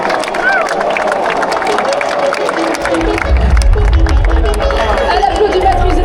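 Audience at the Tour de France 2025 team presentation applauding and cheering a team, a dense wash of clapping and crowd noise that swells louder in the second half, with an announcer talking over it.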